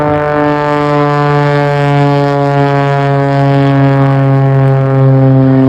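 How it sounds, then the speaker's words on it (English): A propeller aerobatic display plane at an airshow drones steadily and loudly overhead in a strong harmonic engine buzz, holding level flight with little change for several seconds. "Now he levels the aircraft out."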